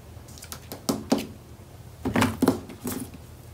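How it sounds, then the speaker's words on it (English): Scissors cutting a piece of orange patterned paper for a scrapbook cover, a few close, sharp snips in two short clusters separated by a brief pause, heard alone. "I'm gonna cut one out real quick."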